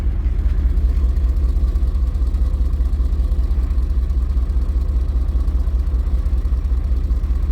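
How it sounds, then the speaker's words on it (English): A high-mileage BMW E39 M5 V8 idles close by with an exhaust leak and a slight misfire, making a steady, deep, loud rumble with a faint uneven pulsing throughout. "you can definitely hear there is an exhaust leak"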